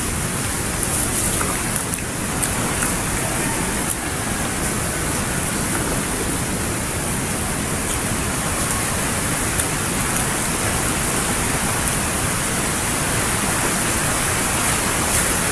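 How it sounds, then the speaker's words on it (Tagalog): Heavy rain pours down in a constant, dense hiss that stays loud and even throughout, with no voices over it. "Lakas ng ulan."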